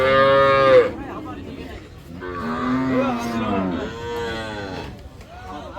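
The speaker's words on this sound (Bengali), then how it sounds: "এই যে বিভিন্ন অঞ্চলের খামারি এবং ব্যাপারীরা এই গরুগুলো কিনে নিয়েছে।" Friesian cows at a rural cattle market (Raniganj haat, Dinajpur) let out several loud, drawn-out moos in quick succession over a busy background murmur.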